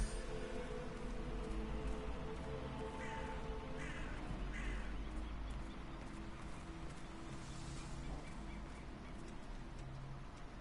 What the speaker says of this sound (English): get rid of the birds in the graveyard